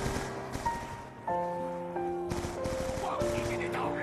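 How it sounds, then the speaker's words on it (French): PDW-57 submachine gun in Call of Duty zombie mode, rapid bursts of automatic gunfire mixed with sustained musical tones and game effects, loud and continuous. "La PDW57. En multijoueur, c'est une arme cheatée."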